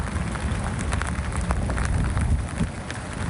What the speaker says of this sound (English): This is Newport Beach, where you can see some light rain, and the winds are kicking up a bit.